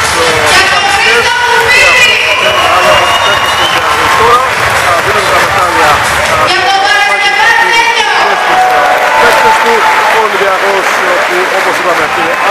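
Large stadium crowd applauding steadily and loudly throughout, with cheering and a general hubbub of voices mixed in.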